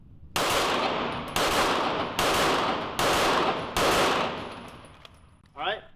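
Five loud pistol shots crack at an outdoor range in a doubles drill, spaced about one second apart, each with a ringing decay, followed by a faint voice at the end.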